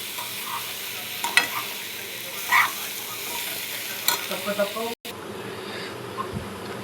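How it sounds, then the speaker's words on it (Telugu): Potatoes and green chillies fry over a low flame in a pan, a steady sizzle broken by scraping and clinking stirs, close up, with a short break before the sizzling resumes. "సిమ్లో పెట్టేసుకొని పచ్చి పచ్చి వాసన పోయే వరకు వేపేసుకుందాము"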